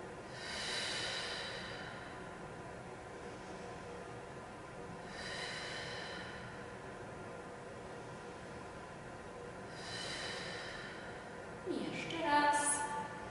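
Slow exercise breathing in a cardiac gymnastics session, air drawn in through the nose and pushed out, three soft hissing breaths spaced a few seconds apart under a steady noisy room background, with a brief voice at the end.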